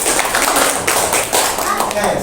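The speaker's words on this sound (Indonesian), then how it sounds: "Tepuk tangan." Classroom group applause for a presenting team, as a dense burst of hand clapping with voices mixed in.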